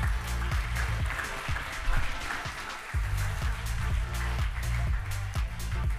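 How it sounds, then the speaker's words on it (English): Audience at the Award for Change 2024 ceremony clapping as a presenter walks onto the stage, with a loud rhythmic musical beat thumping under the steady applause throughout. "A round of applause."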